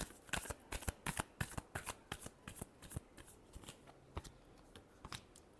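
Tarot cards being shuffled by hand, a quick run of close, crisp riffling flicks and slaps in an uneven rhythm, quiet and alone without talk.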